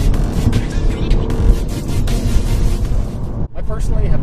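A Volkswagen GTI Mk7 drives with a loud, steady engine and road roar inside the cabin, dipping briefly during a gear shift before pulling again.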